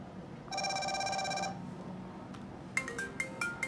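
An HW12 40mm smart watch rings for an incoming call: a bright electronic ringtone burst of about a second, a short pause, then a quicker series of rising melodic beeps, close and clear with no talking.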